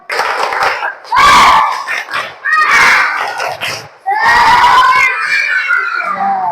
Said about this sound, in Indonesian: Sebelumnya kita tepuk semangat dulu. Tepuk semangat.